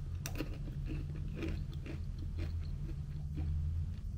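Someone bites into a raspberry rose biscuit and chews it close up, with a few crisp crunches followed by rhythmic chewing over a low background hum.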